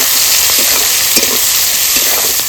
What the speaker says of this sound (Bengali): তো পেঁয়াজটা তো ভাজা হয়ে গেছে